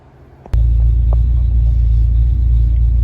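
A car engine on an O'Reilly Super Start Extreme battery cranks and catches abruptly, then settles into a loud, steady low rumble of idling.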